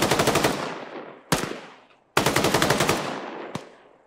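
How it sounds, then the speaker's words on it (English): Automatic weapon fire in the military shooter game ArmA 3, two loud rapid bursts of rhythmic shots, each followed by a ringing tail, with a single extra crack near the end. "I was just popping off some area target shots"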